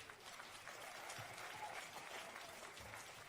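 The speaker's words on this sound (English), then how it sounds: "let's give our orators another round of applause" An audience at an MLK Jr. oratory competition applauds the student orators, a steady wash of clapping heard somewhat distant and soft, holding evenly throughout.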